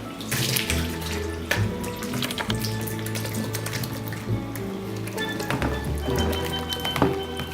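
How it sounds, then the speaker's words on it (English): Port wine drains off soaked fruit for a Caribbean black cake, a steady close trickle and splash of liquid running continuously with small clinks and bumps. "What you'll have to do is strain the excess port wine off of it."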